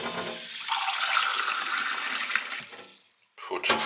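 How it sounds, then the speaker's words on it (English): Hot water gushes steadily from a tap for a few seconds, close and loud, then stops; a short splash follows. "put hot water in from the pipe"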